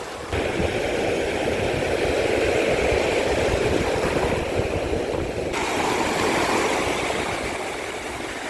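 Wind-driven sea waves rolling onto a rocky beach below the White Cliffs of Dover, a steady, loud roar of surf and wash filling the whole clip without pause.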